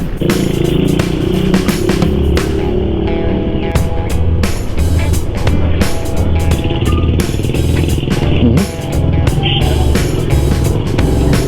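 Yamaha NMAX 155 scooter ridden on a road at night, its engine note steady and loud with a low drone while decelerating under engine braking, wind and road noise throughout.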